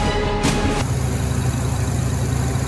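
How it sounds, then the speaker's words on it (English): A 2021 Kawasaki ZX10R motorcycle engine, started by a manually connected starter relay, cranks briefly, then catches and settles into a steady, low rumbling idle close by. "the truck started right up"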